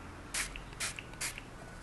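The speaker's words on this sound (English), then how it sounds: "So I spray a bit of setting spray" Setting spray misted onto a brow brush coated with brow soap, three short, crisp hissing spritzes spaced evenly apart, close and fairly quiet with no voices.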